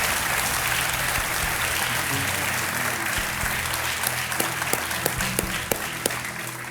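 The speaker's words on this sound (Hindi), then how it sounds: "आइए, तालियों के साथ आपका स्वागत है" A studio audience on a TV quiz show applauds to welcome a guest teacher onto the stage, dense sustained clapping throughout with a few sharper close claps standing out toward the end.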